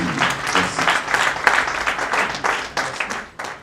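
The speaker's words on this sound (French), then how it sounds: "nous allons l'applaudir" Audience applause at a cultural agenda launch in Benin following a speech, a lively crowd of hands clapping in a thick, continuous burst, close and fairly loud, with no talking on top.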